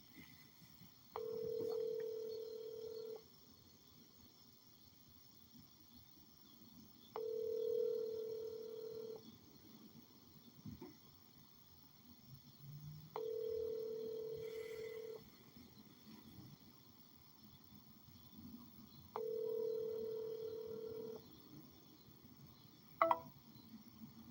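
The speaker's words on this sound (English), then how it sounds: "we could call Rich" A telephone call: four evenly spaced ringback tones, each about two seconds long, repeat over quiet line noise, with a brief click near the end.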